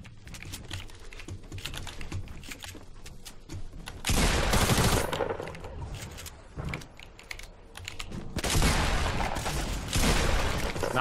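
Fortnite battle royale gunfire in two loud bursts of rapid shots, separated by quieter clicking and rattling of game action and keyboard keys.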